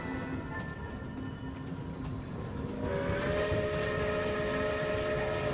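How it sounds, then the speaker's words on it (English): A train pulls into Snezhnaya station in a video game, with a steady rumbling roll that builds and grows louder, overlaid by a sustained whistle-like tonal drone near the end. "Train."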